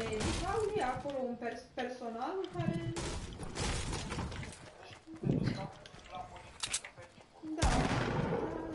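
Fortnite gunfire during a 50 vs 50 match: scattered, fairly faint shots and short bursts, mostly heard beneath people talking, with a louder crack near the end.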